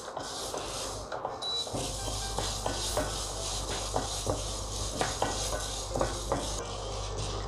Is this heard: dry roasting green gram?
yes